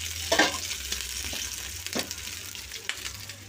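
Food fries in a pan with a steady crackling sizzle, marked by a few distinct stirring scrapes and clatters, fairly close and with no talk.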